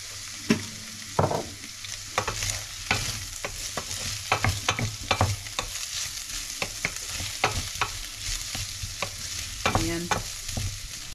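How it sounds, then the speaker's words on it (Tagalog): Onion and garlic sautéing in sesame oil, a steady close sizzle broken by repeated spatula scrapes and clacks against the pan, with no talking. "igisa na natin sa sibuyas at bawang. Isabay na lang natin. Lagyan natin ng sesame oil."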